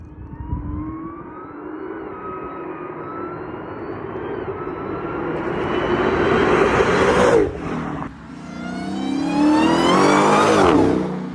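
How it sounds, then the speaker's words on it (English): A Hellcat supercharged engine swapped into a Honda Accord revs hard, its high supercharger whine climbing steadily in pitch, dropping briefly after a shift, then rising again, loud and close, with no talking. "the Hellcat may be the best sounding whining vehicle out there"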